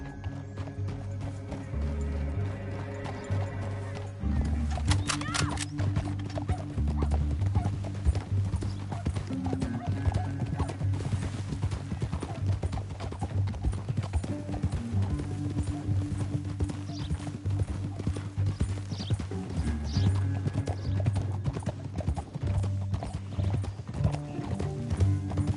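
Steady hoofbeats of horses galloping in Red Dead Redemption 2, a rapid clip-clop rhythm under a musical score, with an occasional whinny.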